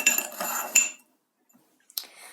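A spoon stirs sugar syrup for microwave honeycomb candy, giving close, scraping clinks against the container for about a second, then near-silence and a few faint bumps and a short rustle.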